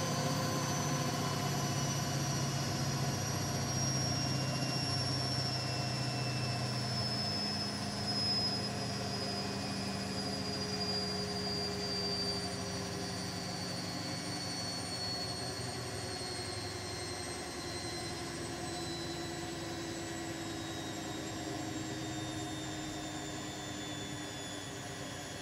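A Zanussi ZWG7160P washing machine on its final 1600rpm spin gives a steady high whine and rumble with slowly falling drone tones, loud and continuous without talk.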